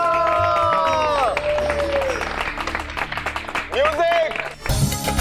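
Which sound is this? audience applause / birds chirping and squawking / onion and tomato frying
audience applause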